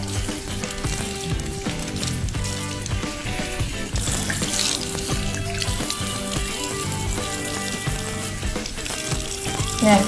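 Tap water runs steadily into a sink while a makeup remover towel is rinsed and rubbed under the stream, a continuous splashing wash with soft scrubbing and handling noises throughout.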